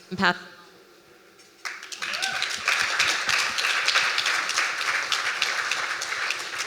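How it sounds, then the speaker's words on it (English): Audience applause at a global family office investors event breaks out after a short quiet stretch, then holds as dense, steady clapping from a large crowd, close and fairly loud, with a brief voice near the start. "Can we give them one more applause?"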